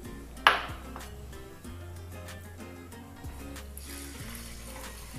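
Water poured from a tap or jug onto sugar in a bowl to make syrup for besan ladoo, starting with a bright metallic ping, then a steady soft trickle and splash; no talking.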